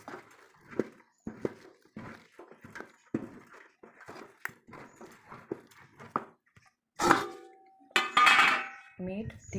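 Jowar flour batter with sesame seeds and cumin is mixed in a metal vessel, giving intermittent clinks and scrapes, close and moderately loud, with someone speaking between the strokes.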